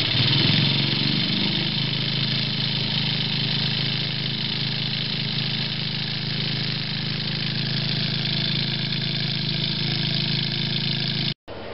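A homemade electric motor powered by 24 volts of lantern batteries runs with a steady, continuous whirring hum at a constant level for about eleven seconds, then cuts out abruptly with a brief gap before resuming.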